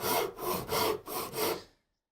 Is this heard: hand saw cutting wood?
yes